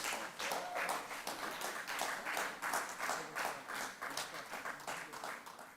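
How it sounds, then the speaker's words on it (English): A conference audience claps together, a fairly faint but continuous round of applause with a pulsing, uneven rhythm. "I would like you to give us a big round of applause."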